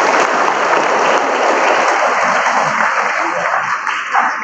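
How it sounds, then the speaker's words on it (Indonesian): Applause from a church congregation for a nun marking seven years in her habit, a loud, dense patter of many hands close by that thins slightly toward the end, with no talk over it. "7 tahun, tepuk tangan dong"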